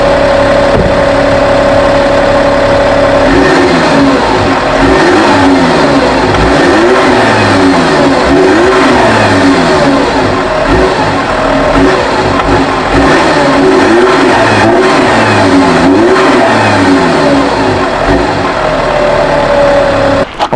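VW Touareg TDI diesel with the DPF mid pipe deleted, revved repeatedly from idle: a loud, close, gruff engine note rising and falling in a dozen quick, even rev cycles, settling back toward idle at the end.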